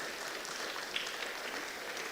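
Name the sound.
audience applause for the panelists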